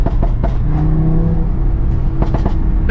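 A grey Audi TT RS tuned to Stage 1+ with a stock exhaust launches hard, its engine droning loud and steady throughout, close by, with brief rev surges and no talking.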